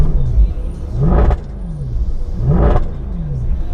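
A straight-piped, remapped 562 bhp Mercedes C63 AMG sits in a car park, its deep idle rumble broken by two sharp, rising revs, loud and close.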